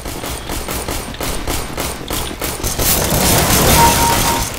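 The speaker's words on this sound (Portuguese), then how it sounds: "Ó, tá rolando tiro aqui." Rapid gunfire from the video game CS:GO, a dense run of loud automatic shots with booming impacts that swells into sustained firing toward the end, with no talking.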